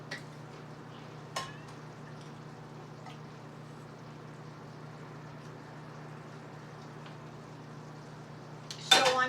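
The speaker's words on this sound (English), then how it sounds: "I'm just going to stir this into a little dough" Stirring salsa into dough: a quiet, steady scraping and stirring in a bowl, with a few faint clinks and a louder utensil clatter at the end, and no talk.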